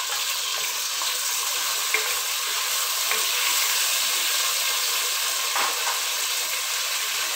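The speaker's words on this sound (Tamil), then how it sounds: "வெங்காயம் வதங்கிடுச்சு. இப்போ நான் இந்த தக்காளியும் சேர்த்துட்டேன்." Tomatoes frying in a pan with already softened onions for Chettinad chicken curry: a continuous loud sizzle and hiss up close, broken by a few soft stirring taps, with no talking.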